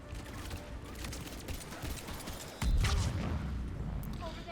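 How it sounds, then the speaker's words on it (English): An explosion in the video game Mass Effect 3: a sudden, deep, booming blast hits midway through a scene of scattered crackling gunfire, then its rumble lingers. "Ooh, blue explosion."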